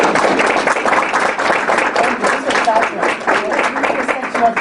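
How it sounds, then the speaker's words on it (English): Audience applause for a panel at the end of a public health conference session, a brisk, fairly loud patter of clapping throughout, with some voices mixed in. "we have a round of applause for our panel first."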